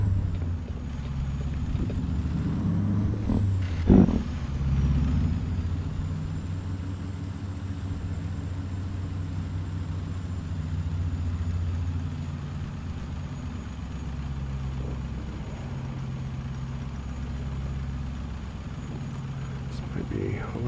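A heavy 379/389-style semi truck in American Truck Simulator rumbles steadily as it pulls away, with a brief hiss or clunk of air brakes releasing near the start and a continuous low engine drone throughout.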